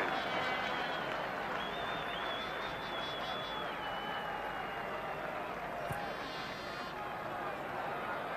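Irish spectators at a 1985 World Cup qualifying football match against Denmark applaud in a steady, diffuse wash of crowd noise that runs throughout, distant and fairly quiet, with faint whistles and murmurs mixed in.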